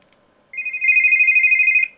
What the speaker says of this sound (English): When a website visitor starts the chat, there's going to be an audible sound produced that sounds like this.